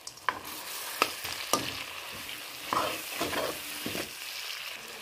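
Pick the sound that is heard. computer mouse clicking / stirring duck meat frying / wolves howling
stirring duck meat frying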